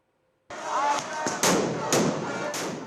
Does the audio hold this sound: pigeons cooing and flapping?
no